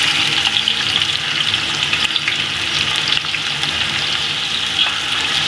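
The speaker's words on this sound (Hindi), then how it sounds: "प्याज को हम लोग पकाएंगे और इसको लाइट गोल्डन सा फ्राई करेंगे।" Four onions frying in a cup of hot oil in a degchi for chicken pulao, a loud, dense, unbroken sizzle that holds steady throughout, close by with no voices.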